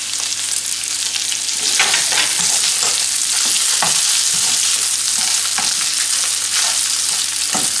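Lamb sweetbreads fry with garlic in a pan, giving a loud, steady close-up sizzle with occasional stirring scrapes throughout.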